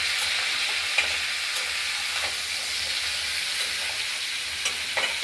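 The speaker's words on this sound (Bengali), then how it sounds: "এবার নেড়ে চেড়ে ঢেকে দেবো।" Mixed vegetable curry with potatoes, red potatoes, flat beans, cauliflower and green banana, seasoned with turmeric, stirred as it fries in a pan, giving a steady close sizzle with light scraping clinks throughout.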